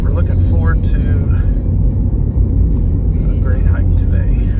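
Steady low engine hum and road rumble inside a moving car on a hot summer morning, continuous and fairly loud, with people talking over it.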